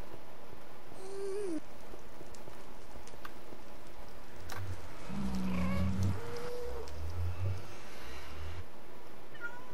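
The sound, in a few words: cat meowing in Minecraft video game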